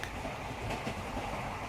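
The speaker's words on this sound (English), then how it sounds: "The train clickety-clacks along the track." A train clickety-clacks steadily along the track, a continuous low rumble with soft rhythmic rattling at moderate distance and no talk.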